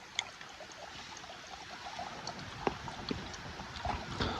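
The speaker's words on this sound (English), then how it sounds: "Never cross the creek without getting some water, right?" Ice-cold mountain creek in Colorado backcountry canyon, flowing steadily with a broad, continuous rush of water and small splashy trickles, close by and alone with no talk.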